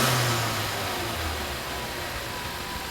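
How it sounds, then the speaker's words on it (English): A Ford Mustang EcoBoost (2015-2021 generation) fitted with a COBB cold air intake runs with a steady, fairly loud engine drone and breathy intake hiss that eases off slightly over a few seconds. "you can definitely hear the intake more, and the blow-off valve is also a little bit louder"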